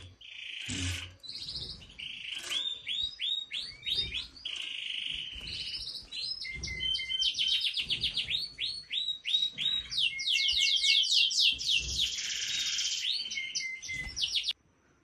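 A caged canary sings an energetic, continuous song of rapid trills, chirps and buzzy rolling phrases, loud and close, running for over fourteen seconds without pause or talk.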